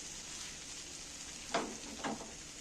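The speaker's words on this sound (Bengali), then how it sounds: "এইবার আমি এই মশলাগুলোকে একটু ভালো করে নাড়াচাড়া করে নেবো" Coriander powder and other spices fry softly in a pan with onion, green chili, tomato and potato, a quiet continuous sizzle broken by two short stirring scrapes.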